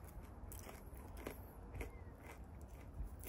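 Someone chews the crispy edges of primitive bread baked over a campfire in the forest. The bites give quiet, close crunches and crackles in an irregular rhythm, with no talk over them.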